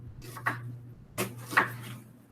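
Onions chopped with a knife on a board, several faint, separate thuds and cuts spread out at an irregular pace in a quiet room.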